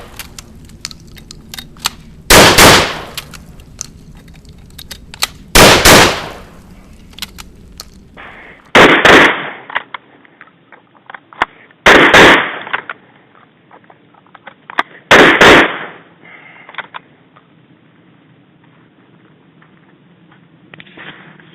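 A TTI Rhino shotgun fires shells at a range, five loud, sharp booming blasts spaced roughly three seconds apart, with quieter clicks and handling noises between shots.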